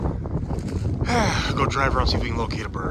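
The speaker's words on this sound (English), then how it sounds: "It's gotten really windy." Low wind rumble buffets the microphone throughout while someone talks over it, outdoors on a Wisconsin farm during turkey hunting.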